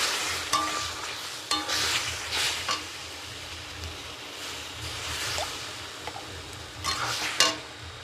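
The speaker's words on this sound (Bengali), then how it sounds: "এবার দিয়ে দেবো অল্প করে জল।" Semolina frying in a pan as a little water goes in, bringing bursts of sharp sizzling and hissing mixed with scraping stirring strokes, rising and falling in uneven waves.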